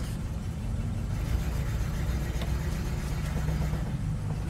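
A 1956 Studebaker Flight Hawk runs with its exhaust system down, a low, steady engine rumble idling evenly and close by, alone without talk.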